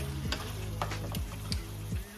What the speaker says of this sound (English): now that I'm done sauteing my veggies